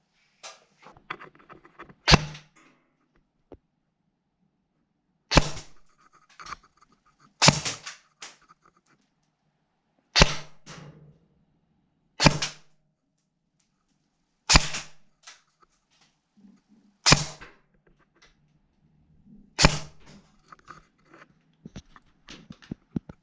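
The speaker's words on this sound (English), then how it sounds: "Now if we flip it to full auto, it should only be 3-round burst." A Classic Army Nemesis X9 airsoft gun firing short three-round bursts over a chronograph, about eight separate sharp cracking volleys spaced a few seconds apart in a quiet room.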